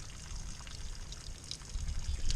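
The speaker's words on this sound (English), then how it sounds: "I will lower the big motor down and let the water drain out" Water drains and trickles out of a boat as its big motor is lowered, a steady close pouring that swells slightly toward the end.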